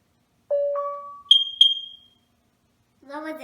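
A Nest Protect smoke detector runs its self-test, giving a few clean electronic chime tones in rising steps, then a pair of higher beeps, before a synthesized voice begins speaking.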